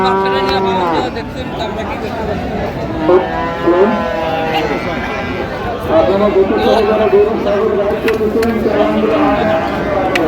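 Cattle, including Friesian and crossbred bull calves, moo repeatedly, close and loud, over a busy crowd murmur of people talking at Raniganj livestock market.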